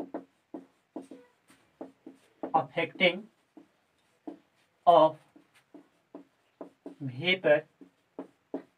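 A lecturer writes on a classroom board, giving short scratchy strokes and taps in a steady stop-start rhythm between bursts of his speaking.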